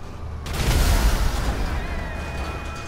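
A grenade blast in a video game, a low booming burst that swells and rumbles for about a second before fading into a lingering tail, with game noise and voices mixed underneath.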